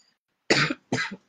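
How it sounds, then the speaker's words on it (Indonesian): Two close, forceful coughs in quick succession from someone speaking at a Ramadan women-entrepreneur talk, each a short rough burst with a brief gap between, and no other sound around them. "Maaf sambil batuk."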